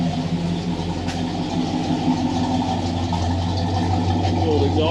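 A 1956 Chevy Gasser wagon engine idles close by with an old exhaust tip, putting out a steady, lopey low rumble at an even level, with some voice mixed in beneath it.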